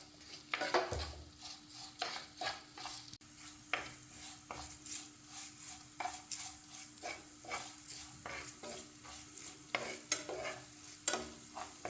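Gooseberry pickle being stirred with pickle powder and chili powder in a pan, repeated rhythmic scrapes and light clinks of a spoon against the vessel over a faint frying sizzle.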